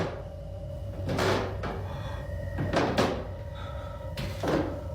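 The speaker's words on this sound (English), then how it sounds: "Close the other door." A door thuds closed in a tense, dark setting: several hard knocks and bangs come at irregular intervals over a steady low background hum, with no talk.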